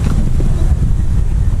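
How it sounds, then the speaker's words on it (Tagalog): Strong wind buffets the microphone at a riverside camp with clear water, a loud, continuous low roar that swamps everything else for the whole stretch. "Alakas ng hangin."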